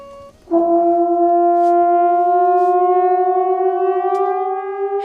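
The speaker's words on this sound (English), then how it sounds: "A peaceful song interrupted by the wailing of an air raid siren." An air raid siren in Kyiv starts abruptly and wails steadily, loud and sustained, its rising tone drawn out over several seconds with no voices.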